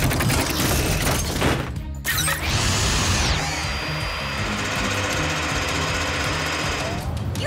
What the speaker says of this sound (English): Now, Zuma, use the mini drill to make post holes.